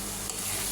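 Spice paste stir-fried in a pan for a Bengali beef curry gives a steady, close hiss of sizzling, continuous for a brief moment.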